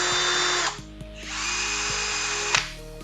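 A Bosch/Deco cordless drill driver whirs loudly at full speed in two bursts of high-pitched spinning, with a brief pause and a click between them.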